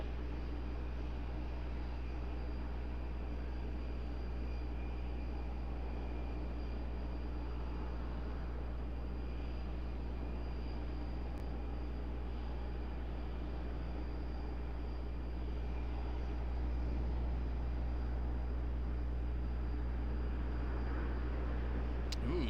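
Airliner touching down at Raleigh-Durham airport: a steady, distant low jet roar that holds throughout, with a deeper rumble swelling near the end.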